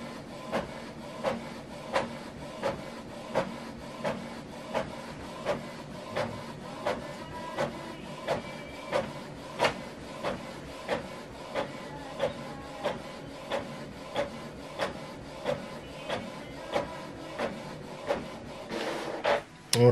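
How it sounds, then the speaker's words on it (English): A Canon TS7451 inkjet printer printing a document two-sided, with regular mechanical clunks and whirring passes repeating about every second, close and moderately loud, ending in a final louder clack. "We are printing this document two-sided."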